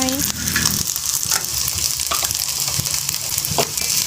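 Instant noodles stir-fried in a pan with cooked rice and Maggi seasoning sauce: a loud continuous sizzle up close, with scattered spatula scrapes and knocks throughout.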